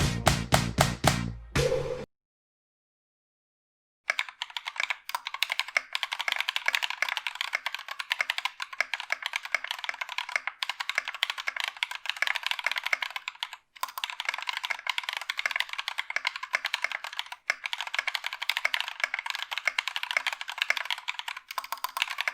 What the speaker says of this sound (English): upon typing on them, they are really tactile, like pretty damn tactile